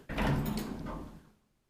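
An old Kone traction elevator's worn door makes one close sliding rumble that fades out over about a second.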